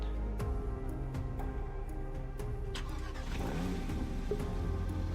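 A Porsche 911 Speedster in the Driving Empire video game drives with a steady, loud engine drone, revving and shifting over several seconds alongside occasional clicks.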